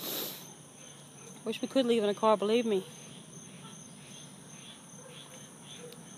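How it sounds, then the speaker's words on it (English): Insects chirping in a continuous high-pitched drone near water outside a vet clinic, steady and fairly faint, with a voice talking briefly over it. "I don't know if you hear all the bugs in the background here with all the water."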